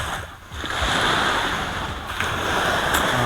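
Steady rushing surf at the shore in Calatagan, Batangas, a broad continuous wash of breaking waves with some wind buffeting, no voices.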